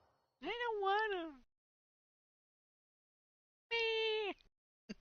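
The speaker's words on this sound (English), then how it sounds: "my friend's cat's just over here meow." A cat gives two clear, drawn-out meows close by, separated by a few seconds of silence, with no talking.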